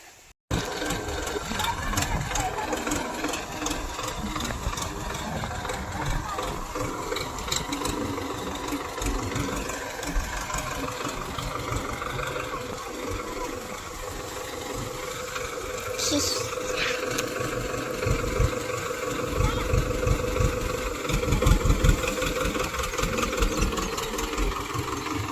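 A farm tractor engine idles steadily and close by through the whole stretch, a continuous chugging drone with a faint rhythmic knock and no break.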